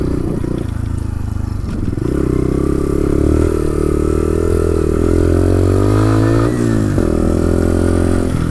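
A Bullit Hero 125 motorcycle on a test ride runs at a steady engine drone, close and loud, with the pitch shifting as it revs up and down and some rattling and scraping over the engine.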